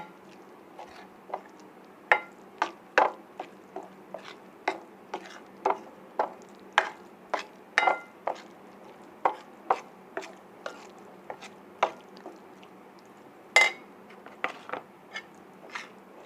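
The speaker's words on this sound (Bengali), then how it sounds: "এইভাবে ভালো করে নেড়ে চেড়ে মিক্সচার করে নেবেন" A spoon stirring a paste of packet spice powders, including chili powder, in a bowl, giving a steady run of sharp, close clicks and scrapes at irregular intervals, quiet between strokes, with a faint low hum beneath.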